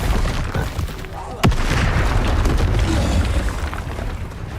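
A fire spell bursts with a sudden sharp boom in Hogwarts Legacy, set against a dense, rumbling battle din that carries on for several seconds after the blast.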